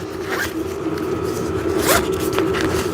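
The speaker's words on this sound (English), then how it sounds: "this is where you have your zipper compartment" A zipper on the compartment of a backdrop stand's ballast bag is pulled open and closed in a few quick rasping strokes, close and clear with no talk.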